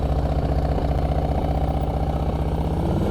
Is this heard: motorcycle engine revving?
yes